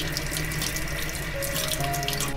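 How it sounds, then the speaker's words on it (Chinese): Kitchen tap water runs steadily into a sink while galangal root is rinsed clean, a close, constant splashing rush with no speech. "我们先来清洗干净。"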